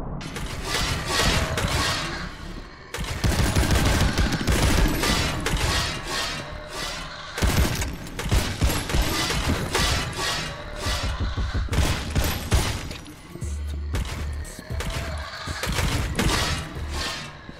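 Rapid repeater gunfire rattles through a firefight in the video game El Paso, Elsewhere, dense loud volleys with thuds and crashes, broken by a brief lull early on.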